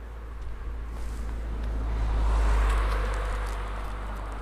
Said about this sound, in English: And I hear a car coming behind me.